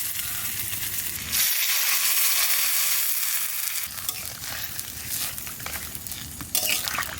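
Water poured into a hot pan of koi fish curry with hill brinjal and potatoes sets off a sudden, loud hissing rush that settles into a softer bubbling sizzle, with a brief clatter near the end.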